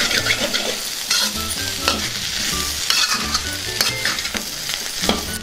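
Colocasia fry with coriander is stirred in a hot pan, a continuous close sizzle broken by repeated scraping and clattering of a spoon, with no speech.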